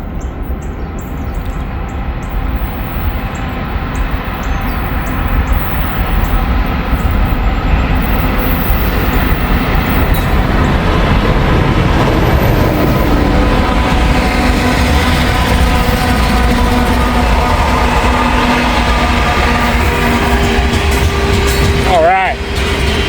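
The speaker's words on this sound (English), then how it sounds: "Looks like it might be a grain train." A Norfolk Southern grain train rolls past close by, a loud, continuous rumble and rattle of freight cars that holds steady throughout, with a brief squeal near the end.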